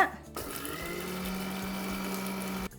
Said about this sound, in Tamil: இதை நாம் மிக்சி ஜாருக்கு மாற்றிக்கலாம் எவ்வளவு நைஸாக அரைக்க முடியுமோ அந்த அளவுக்கு நைஸாக அரைச்சி எடுத்துக்கோங்க